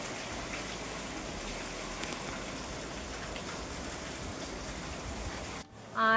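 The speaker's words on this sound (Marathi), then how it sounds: "बाहेर आहे थोडा पाऊस, मी दाखवते तुम्हाला।" Steady rain falls outside in a dense, even patter that continues throughout, cut off abruptly near the end.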